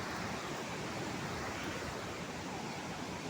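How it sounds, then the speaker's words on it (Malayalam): Roadside natural waterfall with water flowing forcefully, a dense continuous roar that stays steady and unbroken throughout, with no voices. "നല്ല കുത്തിന് വെള്ളം ഒഴുകുന്നുണ്ട്."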